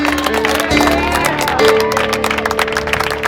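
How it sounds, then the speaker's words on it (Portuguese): A church congregation applauds during an evangelical sermon in Manaus, with a dense, steady wash of clapping from a crowd mixed with organ-like sustained tones and voices underneath. "Quem pode aplaudir Jesus?"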